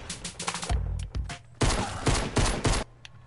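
Rapid bursts of gunfire from the video game Fortnite, several loud volleys of shots in quick succession with short gaps between them, heard alone without talk.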